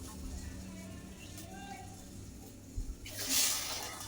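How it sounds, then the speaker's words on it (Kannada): Water poured into a pan while making rava upma in a home kitchen, a bright splashing pour starting near the end after a quieter stretch of low room noise. "ಇವಾಗ ನೀರು ಸೇರಿಸ್ತಾ ಇದ್ದೀನಿ"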